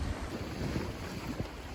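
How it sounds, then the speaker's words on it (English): Steady wind roars across the microphone aboard a sailboat at sea, with low rumbling water and hull noise underneath; continuous and fairly loud, no voices. "Okay, we're back with the wind."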